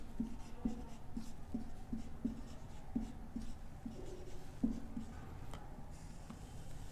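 Chalk or marker tapping and scratching on a board during a matrices algebra maths lecture, with a steady run of faint, regular ticks over quiet room tone and no talk.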